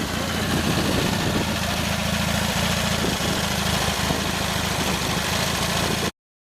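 A 1977 Harley-Davidson Sportster XLCR motorcycle idles close by, its steady low engine rumble running unbroken for about six seconds before cutting off abruptly, with a constant breezy hiss over it.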